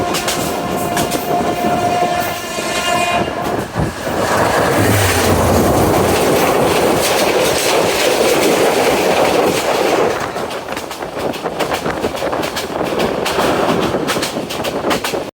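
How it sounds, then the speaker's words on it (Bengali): Sagarika Commuter and the nonstop Cox's Bazar Express cross at a double-line section in Bangladesh, a loud, continuous roar of passing trains with rattling wheels and clatter, a brief horn early on, sustained close by throughout. "এখন ননস্টপ কক্সবাজার এক্সপ্রেস ট্রেনের সাথে সাগরিকা কমিউটার ট্রেনের ডাবল লাইন ক্রসিং উপভোগ করুন।"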